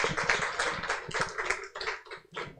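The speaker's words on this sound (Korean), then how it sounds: "다시 한번 박수 연수 연우에게 박수 해주겠습니다." A burst of clapping from a small church crowd at a Christmas Eve event, steady and dense for a couple of seconds, thinning out toward the end.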